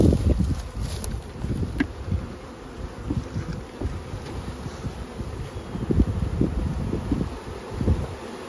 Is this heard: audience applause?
no